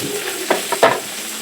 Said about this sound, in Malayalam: ഇനി ആ എണ്ണ വറുത്ത പാത്രത്തിലോട്ട് കടുക് ഉരുവായും പൊട്ടിച്ച് വെളുത്തുള്ളി, ഇഞ്ചി, പച്ചമുളകും എല്ലാം കൂടി ഇടാതെ എന്നിട്ട് അത് നല്ലതായിട്ട് വറുത്തെടുക്കണം